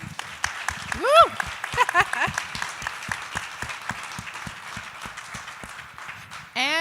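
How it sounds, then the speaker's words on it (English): Scattered hands clap in steady, separate beats for a jazz fellowship honoree at a live event, with a whooping voice rising over the top early on and a louder burst right at the end. "Round of applause."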